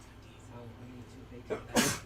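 A single sharp sneeze bursts out loud and near at the very end, right after a person speaks briefly in a quiet indoor setting.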